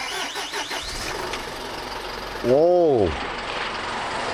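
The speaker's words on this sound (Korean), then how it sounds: "시동 소리 좋습니다." A 2016 used car with a five-speed manual gearbox starts up: a short whirring crank that catches into a brief engine rev and then settles into an idle. It sounds close, with a voice speaking briefly just before.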